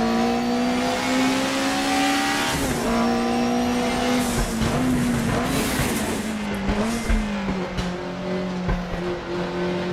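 A Cupra Leon E-Racing electric race car in the RaceRoom sim-racing game lets out a loud, continuous electric motor whine that rises and falls in pitch as it accelerates and brakes, with bursts of tire squeal.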